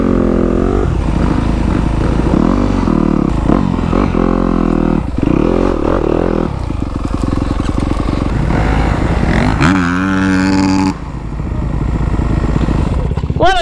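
A fuel-injected dirt bike revving and accelerating in a drag race, a loud buzzy engine rising and falling through several pulls with a brief drop near the end, voices faintly underneath.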